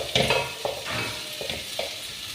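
Sliced green chillies, several kinds cut into rounds, fry in a pan for a chicken thoran. A hissing sizzle comes with a few stirring scrapes spaced roughly every half second, close and moderately loud, with no talking.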